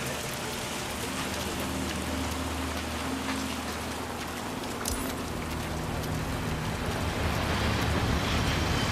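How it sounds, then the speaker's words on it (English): Steady rain falls in the Hitman 3 video game, a dense, even hiss of drops on surfaces with a low rumble underneath, continuous and unbroken, with no talking. "Let's get you out of the rain, shall we?"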